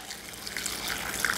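Very hot water is poured into a heat-proof bowl over lightly toasted chili peppers, a close, steady trickling and splashing stream with no speech.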